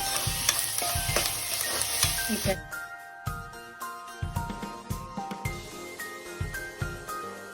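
Finely chopped tomatoes frying in a pan for egg keema, a bright sizzle at first that drops away, then repeated scraping stirs with the spoon clinking rhythmically against the pan, close and clear.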